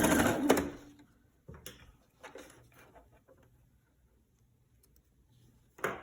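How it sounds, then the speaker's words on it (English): A sewing machine stitches along the hem of a homemade fabric face mask in a few short, close bursts, with quiet pauses between runs and a last burst at the end. "I come over to the machine and I'm going to sew along this hem."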